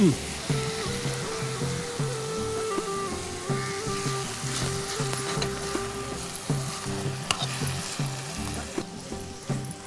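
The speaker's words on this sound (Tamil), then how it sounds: "இப்போ இந்த தக்காளியும் அரைச்ச தக்காளியும் போட்டுக்கலாம் நம்ம" Ground tomatoes tipped into a hot frying pan sizzle steadily and loudly, with rhythmic scraping and bubbling as the mixture is stirred.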